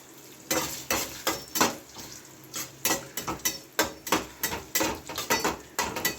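Chopped ginger and five-spice seeds temper in hot oil for a star fruit chutney, a steady sizzle broken by a quick, rhythmic series of scraping stirs against the pan.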